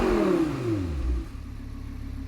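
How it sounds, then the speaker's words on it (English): A high-revving V10 car engine in a racing video game screams and then drops in pitch as it winds down, settling into a lower, steady hum. "I love that V10 engine."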